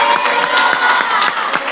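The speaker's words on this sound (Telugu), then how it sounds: "దేవుడికి చప్పట్లు కొడుతూ హల్లెలూయా చూద్దాం" A church congregation at a rejoicing service cheers loudly in unison, with clapping beats pulsing through the dense crowd noise, close and continuous.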